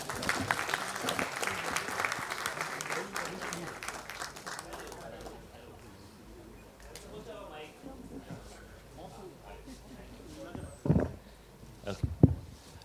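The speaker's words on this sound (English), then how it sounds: "Round of applause to Nimai," A round of applause from the audience at a college reunion event, dense clapping for the first few seconds that fades out, followed by quieter room sound, talk and a few scattered thumps.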